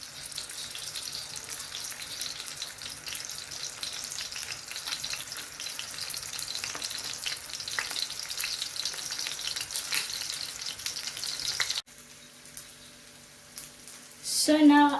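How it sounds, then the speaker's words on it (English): Sausages fry slowly over medium heat with a steady close sizzle and crackle, then briefly give way near the end to a quieter stretch and a short running-water burst. "I'm cooking them with medium heat to ensure that they don't burn."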